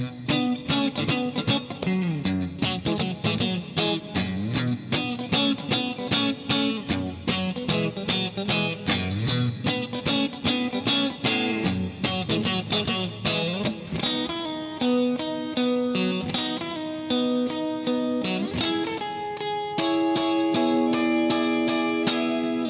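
An electric guitar plays a busy passage of quick, rhythmic picked notes, then shifts to longer ringing chords and held notes toward the end.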